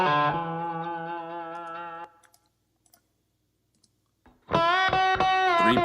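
An electric guitar played through an echo effect rings out in a sustained, bright chord, cuts off into near silence, then strikes again loudly.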